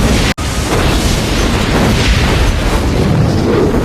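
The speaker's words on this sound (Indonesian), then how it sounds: "Dari luar terlihat mobil dinas Chris yang tiba-tiba meledak." A car bursts into flames in a loud, sustained explosion, a dense roar that fills the scene after a brief instant of silence and rumbles on without letting up.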